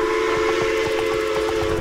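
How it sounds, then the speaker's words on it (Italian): In the SpongeBob: The Cosmic Shake video game, a train passes with a loud, sustained steam whistle over a rhythmic chugging and clacking of wheels, steady throughout with no talking. "Passa il treno?"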